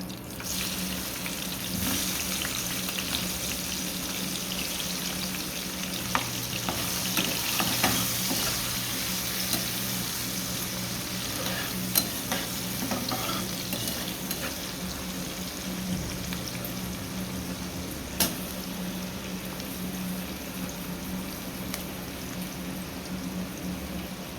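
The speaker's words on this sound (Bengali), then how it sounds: "এই তেলে এখন আমি পেঁয়াজ আর টমেটো দিয়ে দিলাম" Onion and tomato frying in oil after fish was fried in the same oil, a steady low sizzle with occasional stirring clinks and scrapes, moderately quiet and continuous.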